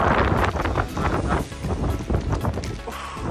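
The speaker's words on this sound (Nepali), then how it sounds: "त्यही भएर अहिले समुद्रमा छ खत्र ठुलो समुद्र यहाँ हेर्नु होला" Strong wind buffets the microphone beside a large sea on a mild, sunny 24 °C day, a loud, steady rumbling roar with gusty surges and a faint churning of water beneath, with no voices.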